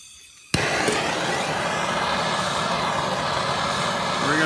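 A MAP gas torch heats a metal part from a 1984 Yamaha G1 golf cart's crank seal area. It ignites with a sharp pop, then roars with a steady, loud, close hiss for several seconds.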